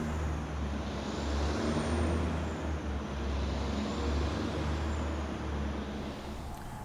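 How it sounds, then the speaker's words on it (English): Peterbilt truck running on a chassis dyno in a service shop to simulate a fully loaded road run, a loud continuous diesel engine rumble with a steady low drone and broad roaring noise throughout. "We use a chassis dyno to help us troubleshoot and verify repairs by simulating the truck going down the road fully loaded and to temperature."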